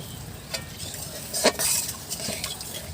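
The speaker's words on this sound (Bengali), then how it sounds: "একটু নাড়াচাড়া করে দিয়ে দেব জল।" Spoon scraping and clinking against a pan while ash gourd curry is stirred, with faint sizzling beneath; a few short, close scrapes and taps, no talking.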